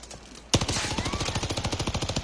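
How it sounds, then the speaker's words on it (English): Rapid automatic gunfire in Warzone, a steady run of loud, evenly spaced shots that begins abruptly after a brief quiet lead-in and continues to the end. "Putting shots down on them."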